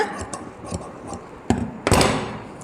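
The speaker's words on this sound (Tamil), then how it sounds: "நான் நேராக மட்டுமே கட் பண்ணுறேன், கவனிச்சுக்கோங்க." Scissors snip through embroidered blouse fabric in a handful of short, crisp cuts, with one louder, longer stretch of cutting near the end, close up and with no talking.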